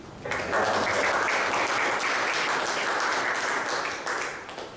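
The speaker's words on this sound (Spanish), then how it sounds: "Recibamos con fuertes aplausos al doctor Fernando Delgado Alvisuri" Sustained, loud applause from an audience welcoming a speaker at a lecture on administrative sanctioning procedure, rising quickly and holding steady for several seconds before tapering slightly.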